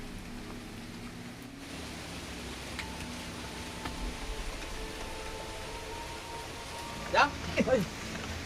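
Heavy rain pours down as a steady, broad hiss filling the whole scene, with people talking over it and a few brief sharper sounds near the end.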